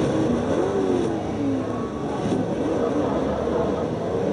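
A race car engine revs in Forza Motorsport 3, a continuous droning roar with gliding pitch changes as it accelerates, steady and fairly loud.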